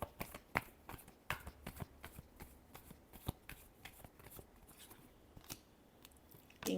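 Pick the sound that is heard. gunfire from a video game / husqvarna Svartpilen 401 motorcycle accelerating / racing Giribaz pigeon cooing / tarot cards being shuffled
tarot cards being shuffled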